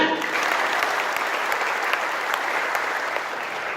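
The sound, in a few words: applause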